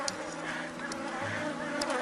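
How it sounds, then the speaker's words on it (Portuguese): Honey bees buzz steadily around an open hive during a swarm split, a dense close-up hum that carries on without a break and with no talking over it. "Aqui, gente, uma abelha que não é agressiva."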